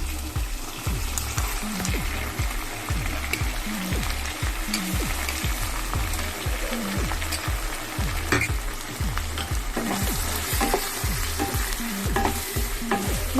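Chicken pieces are stirred and mixed in a pan with green chilli sauce and tomato sauce, giving steady, rhythmic scraping strokes over a continuous close sizzle.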